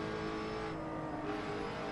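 A GT4 race car in the Assetto Corsa simulator at the Kyalami circuit holds a steady, sustained engine drone while accelerating through a corner, faint and even with no speech over it.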